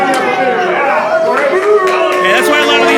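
Rowdy ringside fans at an indie wrestling show heckle and shout at the wrestlers, a dense, continuous babble of overlapping voices close by with sharper yells rising out of the crowd noise.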